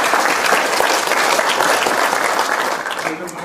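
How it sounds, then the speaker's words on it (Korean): Audience applause welcoming a former unification minister at a Korean policy forum on Kim Jong Un's regime: dense, steady clapping from a large crowd, loud and continuous throughout, with no talk over it. "자, 박수로 환영해주십시오."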